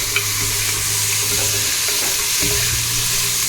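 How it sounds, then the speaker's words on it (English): Carrots and other vegetables frying in a pan, a loud continuous close-up sizzle with a brief scrape of stirring partway through, no voices. "Putting the carrots in right now. So I'm gonna cook that."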